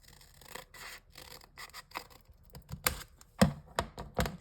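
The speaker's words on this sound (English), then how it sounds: "I'm just going to trim this top." Scissors trimming the top edge off a paper junk mail envelope, a run of crisp snipping and rustling cuts, close and fairly quiet, with several sharper snips toward the end.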